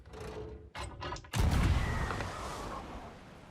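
A heavy cannon blast from the pirate game Sea of Thieves: a broad, loud boom lands mid-clip and rumbles on, after a few short choppy bursts of game noise.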